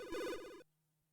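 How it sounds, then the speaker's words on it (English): Electronic telephone ring in the video game Snatcher, a single short warbling trill that cuts off abruptly, loud and alone. "Is the phone ringing?"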